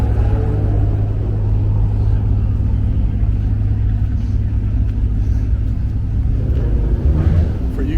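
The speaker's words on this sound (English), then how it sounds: "You got a Cobra with a Vortex supercharger on" Shelby Cobra with a Vortex supercharger idling at a cars and coffee meet in Arizona, a deep steady engine rumble that is loud and continuous throughout.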